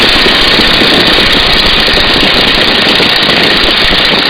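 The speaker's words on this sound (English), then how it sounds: "if you listen to the airplane, you're going to hear it slow down and speed up" Loud, close drone of a Stearman biplane's engine in flight as power is brought back toward about 1,750 RPM, a dense steady roar with a rough throbbing texture and no voices.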